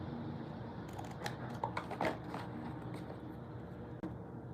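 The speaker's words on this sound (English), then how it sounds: "So I want to go ahead and cut that part of the flap." Scissors snipping through a cardboard packaging flap on a tin pack box, a few quick close cuts and crinkles over a steady low room hum.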